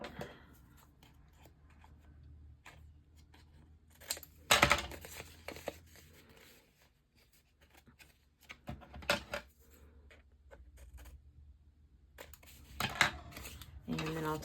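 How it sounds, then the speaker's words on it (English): Scissors cutting a paper template for decorating a gift bag, several sharp snips and crinkles scattered among quiet stretches, close and fairly soft. "I'm going to take my little template here and I'm going to cut."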